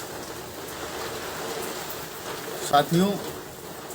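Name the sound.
heavy rain falling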